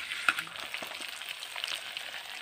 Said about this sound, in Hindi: अब इसमें डालेंगे 5 बड़े साइज के कटे हुए आलू बॉईल किए हुए हैं, इनको चलाते हुए भून लेंगे